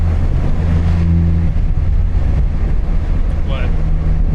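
A 2010 Mini Cooper S with an Invidia Q300 exhaust cruising at freeway speed gives a loud, constant low drone under heavy road and wind roar, with a faint voice in the cabin.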